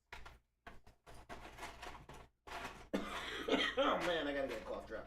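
One person coughs several times in short bursts at close range in a quiet indoor room, followed by a few seconds of throaty rough noise and muffled vocal sounds.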